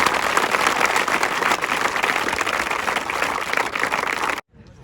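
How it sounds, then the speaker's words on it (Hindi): A crowd applauds steadily for several seconds, a dense wash of clapping that cuts off abruptly near the end. "एक बार जोरदार ताली एक बार फिर से"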